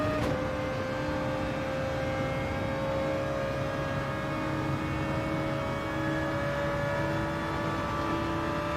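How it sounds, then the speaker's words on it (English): A high-revving racing car engine in the video game Gran Turismo 7 drones steadily throughout, its pitch holding near constant with faint whine, no voices heard. "Now the noise of that car was going through my bloody head then."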